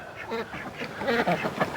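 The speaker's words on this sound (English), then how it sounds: "He's the head duck around here, I guess." Ducks quack repeatedly in a farmyard pen with chickens, a run of close, raspy rhythmic quacks that overlap one another and carry on steadily throughout.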